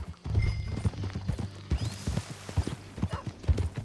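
Horse hooves clip-clop at a steady riding pace in Red Dead Redemption 2, a Western video game, close and loud, with a brief whinny and snorts mixed in.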